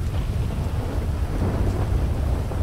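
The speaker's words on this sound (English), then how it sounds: "It's thundering out here." Thunder rumbles in a stormy GTA 5 game scene, a steady low roar with rain hiss, loud and continuous with no voices over it.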